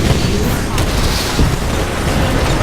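In the Titanfall game, cannon rounds hit a ship as a rolling wall of deep booms and crackling blasts, loud and continuous with a few sharper impacts standing out.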